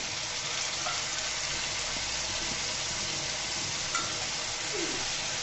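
Red lentils frying in hot oil in a home kitchen, giving a steady, dense sizzle with faint stirring scrapes, close and continuous without any talk.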